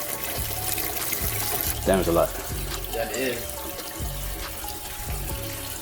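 Old fuel mixed with water and rust drains from a Jaguar XJ6 in a steady, continuous pour and trickle, heard close and running throughout while someone talks briefly over it.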